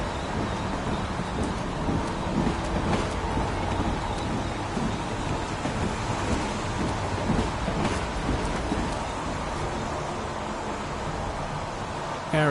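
Heavy rain pours steadily as a dense, constant wash of noise, with low rolling thunder rumbling beneath it throughout; no talking.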